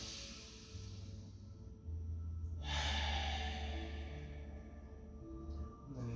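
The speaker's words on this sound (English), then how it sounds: "Take a full belly breath in" A deep belly breath drawn in during a gentle hatha yoga session, a soft, close airy inhale that swells midway and fades, with no talking over it.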